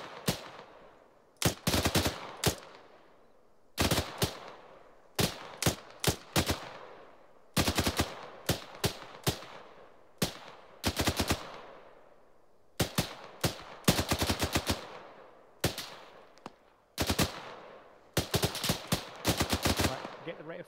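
Bursts of helicopter machine gun fire in Arma 3, loud rapid volleys in repeated strings separated by short pauses, with faint voice chatter underneath.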